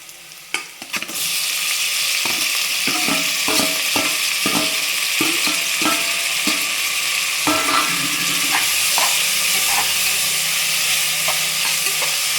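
Tomatoes sautéing in hot oil with ginger garlic paste for mutton kuzhambu, a loud steady sizzle broken by repeated scraping stir strokes of a spoon against the pan, with no talking.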